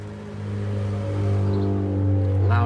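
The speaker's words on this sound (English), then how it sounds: "Loud ass little car." A loud little car driving past outdoors, a rising engine drone and rumble that swells and grows louder over a few seconds as it approaches.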